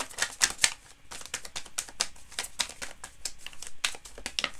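Tarot cards are shuffled and drawn from the deck in a spread, giving close, crisp papery flicks and crinkly snaps in quick uneven bursts, fairly loud and with no talking.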